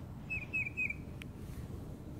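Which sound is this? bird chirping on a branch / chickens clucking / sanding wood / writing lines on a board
bird chirping on a branch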